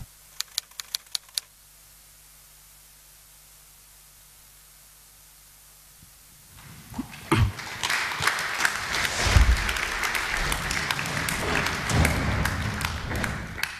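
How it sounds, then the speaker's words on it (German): After a film screening at a lecture on drone warfare, an audience breaks into sustained applause following several seconds of near silence and a few early taps, the clapping dense and continuous to the end. "der Film hat Applaus verdient"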